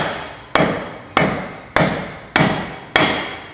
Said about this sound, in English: Apparently I'm supposed to hit this Ferrari with this hammer